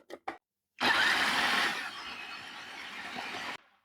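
Kitchen blender whirring continuously for about three seconds as it blends green coriander, starting abruptly after two short clicks and stopping sharply, loud and close.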